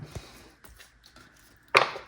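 Tarot cards being shuffled by hand give a short burst of papery riffling near the end, after a few faint taps and soft handling noises.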